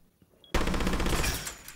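A loud, close burst of rapid automatic gunfire erupts suddenly after a quiet moment in the Rainbow Six Siege video game, its shots running together in a dense rattle that fades slightly toward the end.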